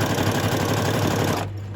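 Sewing machine running a zig-zag stitch to sew on a button, a fast steady mechanical chatter close up that cuts off abruptly near the end.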